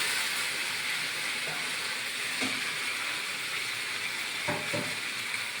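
Fried pointed gourd pieces go into a pan of spiced oil, setting off a steady close sizzle and hiss with a few soft clatters of the vegetables landing near the end.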